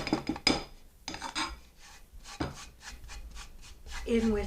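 A spoon scrapes and rubs as chocolate chips are stirred into whipped cream for cannoli filling, in repeated irregular strokes close by, with brief pauses between bursts.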